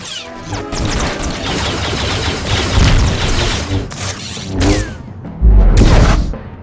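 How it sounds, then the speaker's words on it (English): Missiles and gunfire in the Star Wars The Old Republic video game, dense loud barrage of blasts, crashes and whooshing streaks with a heavy booming impact near the end. "bounty hunters rocketing, with jetpacks, firing missiles down on their opponents"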